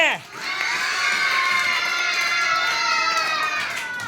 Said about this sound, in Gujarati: હાલો જોરદાર તાળીઓથી આ રમતને વધાવી લેવાની